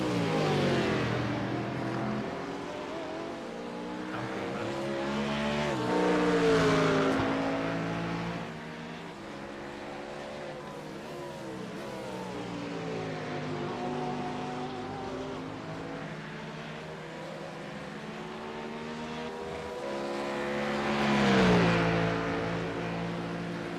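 Simulated race car engines from a Porsche 911 and a Ford Mustang battling at Sebring in iRacing, droning continuously with rising and falling revs as gears shift, loud and close throughout with no talk.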